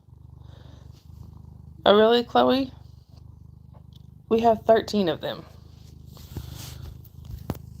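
Cat purring in a low continuous rumble close to the microphone throughout, with someone talking over it in two short bursts.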